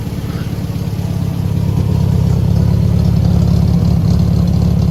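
A car engine idles with a steady low throb, loud and close, settling into an even, continuous rumble.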